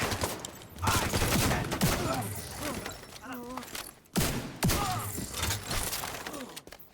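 Rapid SMG gunfire in The Division 2, sustained automatic bursts with a brief gap midway, mixed with game effects and a voice talking over it.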